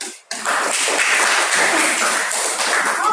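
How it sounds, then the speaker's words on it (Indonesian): An audience claps at a classroom group presentation, with a brief dense round of applause that starts abruptly and holds steady for a few seconds. "Tepuk tangan."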